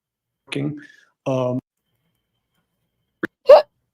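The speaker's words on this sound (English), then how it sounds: "Excuse me, a hiccup." A person hiccups in a courtroom, one sharp hiccup near the end following short bursts of speech, with quiet gaps between.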